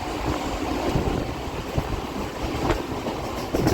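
A passenger train runs along the rails past open fields in the afternoon, heard from inside as a steady rumble with occasional soft clacks, constant and moderately loud throughout with no talking.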